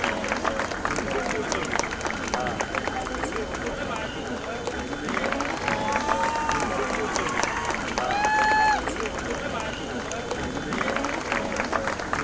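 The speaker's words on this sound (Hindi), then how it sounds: "जोरदार तालियां हो जाए हमारी इस साल की VNM गरबा क्वीन के लिए" A crowd applauds the newly crowned VNM Garba Queen 2014 at a Garba event: steady, dense clapping mixed with crowd noise throughout, with a voice speaking over it.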